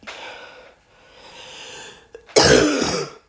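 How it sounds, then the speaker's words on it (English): A person coughs and clears their throat up close, a couple of rough, rattly throat-clearing bursts followed by a sharp, loud harsh cough near the end. "More coughing."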